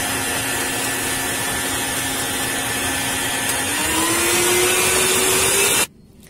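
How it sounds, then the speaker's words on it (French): An electric whisk beating egg whites and sugar for a dacquoise, a loud steady whirring drone whose pitch rises slightly partway through before it cuts off abruptly near the end. "je continue de mettre mon sucre et de fouetter en même temps"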